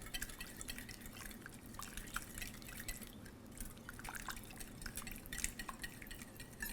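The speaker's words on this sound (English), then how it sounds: "Using a little whisk, I'm just going to blend that all together." A small whisk blends salad dressing for a three bean salad in a bowl, giving a quiet, steady run of light ticks and soft liquid swishing with no talking.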